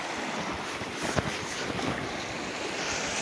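Surf breaking on a rocky beach in Crete, a steady broadband wash of waves with wind buffeting the microphone, continuous and fairly close with a slight surge in the middle, no voices.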